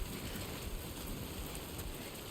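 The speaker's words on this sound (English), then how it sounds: "We got that time fall rain that we're working against." Timefall rain in the video game Death Stranding 2, a steady, even wash of rainfall with no distinct drops standing out and no voices.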